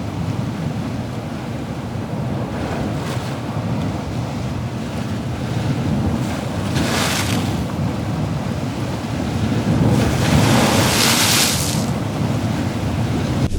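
Ocean waves crash against a rocky shoreline with a constant roar of surf and gusting wind buffeting the microphone, swelling louder in several surges toward the end.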